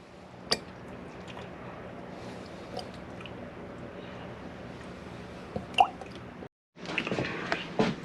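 Quail eggs sit in pickling liquid that steadily eats away at their shells, giving a continuous low fizzing crackle with scattered sharp drips and pops throughout, then a brief silence followed by a louder burst of fizzing.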